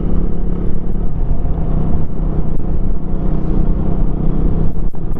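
A motorbike ridden at steady speed gives a dense, continuous engine drone and road rumble, loud and close, with no one speaking.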